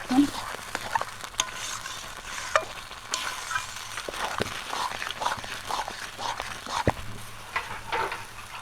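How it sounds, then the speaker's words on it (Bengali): Potatoes sautéed in a pan for Bengali alu ghati, with a spatula scraping and clinking against the pan in irregular strokes over a soft, steady sizzle, no talking. "আলুটা দেওয়ার পর সুন্দর করে কষাবো"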